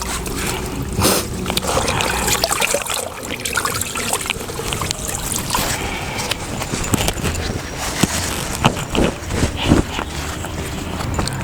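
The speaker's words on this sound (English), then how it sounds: "it goes into one more vat for a final rinse of clear water, plain water, for a final rinse" Cloth rinsed in a vat of plain, clear water during Yoruba cloth dyeing in Yorubaland: continuous close splashing and trickling, with sloshes and drips rising and falling, and no speech heard.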